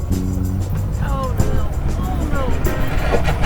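A fishing kayak hull drags over rough, rocky granite and gravel asphalt, making a continuous coarse grinding scrape while someone talks over it.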